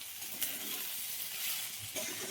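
Leftover cooked rice fries in a spiced tempering of hot oil, giving a soft, steady sizzle with occasional light scrapes or stirs, faint and close, with no talking.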